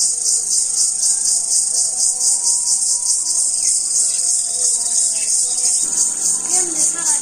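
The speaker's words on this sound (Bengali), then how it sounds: "সারাদিন ঝিঝি পোকা ঝি ঝি ঝি ঝি ঝি ঝি ঝি শুরু করছে।" A dense, steady high-pitched trill of crickets in a Bengali village fills the whole stretch, loud and unbroken, with faint low background sounds beneath.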